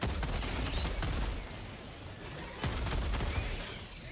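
Rapid bursts of gunfire in the shooter Helldivers 2 during a fight against a bug swarm, loud sustained volleys with a short pause before another sharp salvo resumes.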